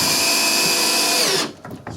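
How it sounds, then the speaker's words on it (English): A power drill drives screws into a plantation shutter frame: a loud, high, steady motor whine for over a second, then it cuts off abruptly, leaving faint handling sounds. "I'm going to drive home some of these screws"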